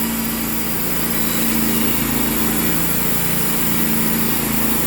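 A faltering motor on a sawmill runs at a steady high-pitched drone, loud and continuous, with no talking.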